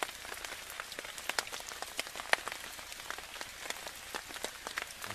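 Steady rain patters on a taut tarp, with dense irregular drops and occasional sharper louder hits, continuous throughout with no voices.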